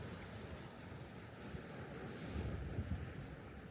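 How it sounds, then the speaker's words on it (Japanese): Ocean surf washes and splashes against the rocky shore at Inarigasaki in Kamakura, a steady broadband rush that swells louder toward the end, with wind buffeting the microphone throughout. "時間差波しぶき。"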